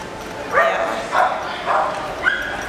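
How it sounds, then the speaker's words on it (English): Dogs bark at each other in four sharp, evenly spaced barks, fairly close and clear over a quiet background. "The dogs are barking at each other."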